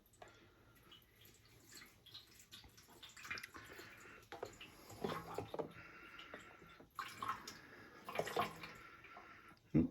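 Oil is poured into a motorcycle fuel tank during cleaning, a quiet, intermittent trickle and splash of liquid with a few drips, close but faint.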